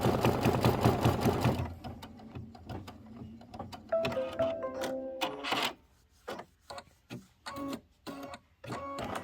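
An embroidery machine stitching a Kimberbell autumn quilt block, a rapid mechanical whirring rattle that stops and then gives way to short bursts of stitching and clicks, close by.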